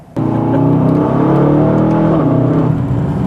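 An Aston Martin DBX 707 SUV accelerates hard, a loud, close engine surging up in pitch and holding strong for about three seconds after a sudden start, with no voices.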